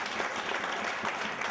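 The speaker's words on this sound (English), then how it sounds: "Clap for Jesus, everybody." A church congregation at a chapel revival meeting claps together, a brief burst of dense, steady applause in a reverberant room.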